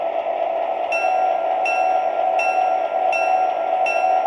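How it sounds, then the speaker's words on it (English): An MTH Premier GP9 model diesel locomotive runs its freight sound sequence, a steady loud engine drone with a bell-like chime ringing in regular repeated bursts. "Now I am going to do the PFA or the freight sound sequence."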